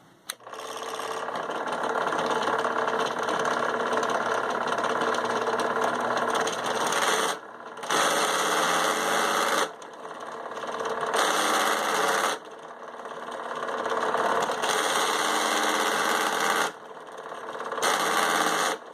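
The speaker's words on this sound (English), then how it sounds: "All that noise is because I used the wrong countersink." Loud, harsh drilling into melamine board with the wrong countersink bit, a rough grinding chatter that runs steadily, then stops and restarts in several bursts, with no talking.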